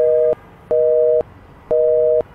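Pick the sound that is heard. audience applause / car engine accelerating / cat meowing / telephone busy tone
telephone busy tone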